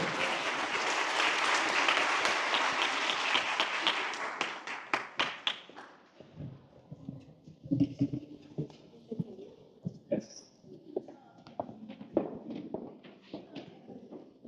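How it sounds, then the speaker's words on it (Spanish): An audience at a corporate business talk applauds loudly for about five seconds, the clapping fading out, followed by scattered taps and soft movement noises. "Un aplauso, por favor."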